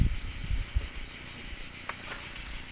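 A swarm of bees settling into a new hive in a root cellar hums in a steady, faint high drone, with a few soft knocks and rustles nearby.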